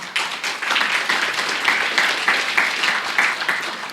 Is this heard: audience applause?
yes